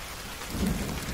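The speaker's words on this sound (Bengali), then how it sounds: "বৃষ্টি যেন বেশ ভালোই হচ্ছে" Steady heavy rain hisses over everything while a low rumble of thunder swells in the background.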